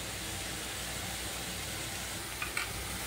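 Chopped tomatoes sizzle in a pan of frying onion and garlic for a Bengali doi begun dish, a steady broadband hiss with brief clinks near the end.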